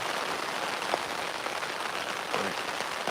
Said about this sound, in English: it's really raining pretty good now.